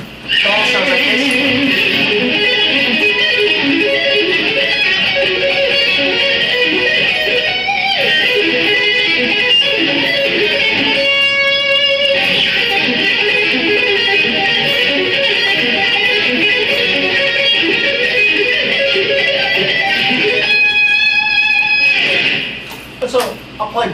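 Fast electric guitar arpeggios, running through 4-string shapes and then a further section, played loud and continuous with brief pauses between runs.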